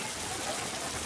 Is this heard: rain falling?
yes